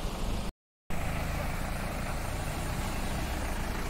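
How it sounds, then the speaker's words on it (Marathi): A car pulls away on a drive to Palshi race ground near Satara for a bullock cart race, its engine and road rumble steady and close, cut by a brief dropout near the start. "मित्रांनो, आपली गाडी निघाली पळशी मैदानासाठी।"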